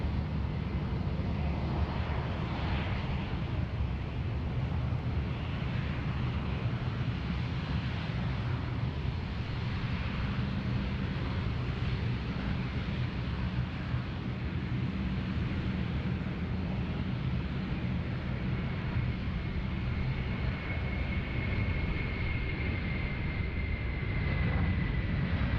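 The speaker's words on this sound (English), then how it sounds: "Qantas 330 getting underway as well." A Qantas A330 airliner gets underway at Sydney Airport, its jet engines making a steady, distant, broadband rumble that runs throughout with no talking.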